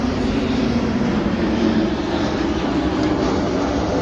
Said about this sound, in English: let this jet pass by real quick.